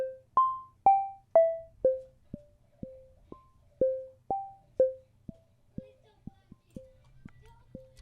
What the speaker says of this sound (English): we want to make this very plucky and bell-like